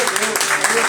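A church congregation applauds during a Brazilian worship service, a short burst of dense clapping mixed with voices and shouts.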